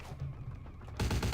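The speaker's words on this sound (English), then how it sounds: "Alright, what about the submachine gun?" Submachine gun fire in Vampire: The Masquerade - Bloodlines, a short rattling burst that grows into a loud, dense stream of rapid shots at close range, with no talking.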